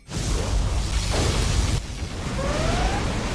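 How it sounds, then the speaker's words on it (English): A Command & Conquer Generals Zero Hour particle cannon blast: a loud, sustained roaring with rushing noise, cutting off sharply and followed by another swelling rumble and a thin rising whine. "Particle cannon activated."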